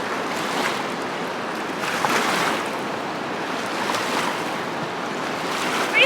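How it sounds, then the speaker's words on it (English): Broad steady rush of the Colorado River flowing, a continuous wash of moving water with slight swells and some wind, fairly close and alone without talk. "The Colorado River's crazy. This thing's huge."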